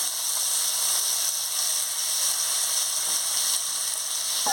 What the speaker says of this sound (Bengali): দিয়ে একটু সামান্য জল দিয়ে মশলাটাকে ভালো করে কষিয়ে নিচ্ছি।